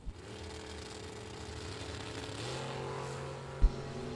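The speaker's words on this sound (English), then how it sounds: "Listen to this car get on the rev limiter." A 1963 Chevy II drag race car at a bracket nationals strip holds a steady, fairly quiet engine drone that shifts to a higher, flat-held pitch partway through as it sits on the rev limiter, followed by a single sharp thump.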